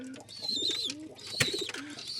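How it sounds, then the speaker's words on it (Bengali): A male pigeon kept as a pet coos close by in short rolling phrases, with thin chirps and other bird calls mixed in over a quiet background. "এ একদম ছেলে কবুতর"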